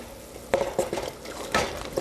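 Chopped cabbage tumbling into a pot of simmering broth and onions, with a few distinct clattering, scraping bursts as it is added and stirred with a spoon, close and moderately loud.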